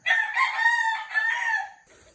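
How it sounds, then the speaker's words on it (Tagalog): A wild red junglefowl (labuyo) crows once, a clear, fairly close cock-a-doodle-doo call lasting under two seconds that trails off into quiet. "meron dito tayong nariring na labuyo"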